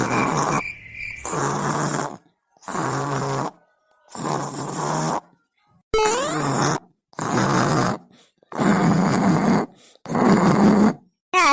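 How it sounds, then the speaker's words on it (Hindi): A woman snores loudly while asleep, long rasping breaths repeating in a steady rhythm about every one and a half seconds, separated by short silences. "यहाँ पर खर्राटा मारती है"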